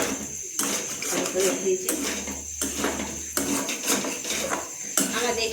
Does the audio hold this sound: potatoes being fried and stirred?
yes